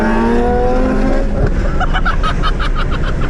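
A nitrous-boosted race car launching hard at a drag racetrack, its engine roaring loud and close with rising harmonic whine that breaks into rapid pulsing bursts as it accelerates away.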